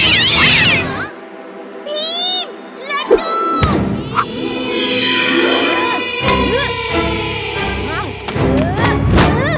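Cartoon cats meow and caterwaul in an animated kids' show scene, a lively tangle of high, wavering meows layered over music and crowd-like commotion, with a few sharp hits and loud bursts throughout.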